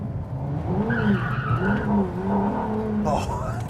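Ferrari LaFerrari oversteering on a bumpy road, engine droning with wavering pitch and tire squeal, the squeal turning sharp and high near the end, with someone talking over it.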